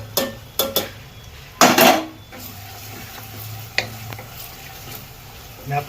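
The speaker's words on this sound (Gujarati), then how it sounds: "હવે આપણે ટમેટા નાખી દઈએ ટમેટાને ત્રણ મિનિટ પકાવી દઈએ" Chopped tomatoes cooking in a pan with softened onion, ginger and chili for baingan bharta, stirred with a utensil: sharp scraping clatters against the metal pan over a soft, steady sizzle.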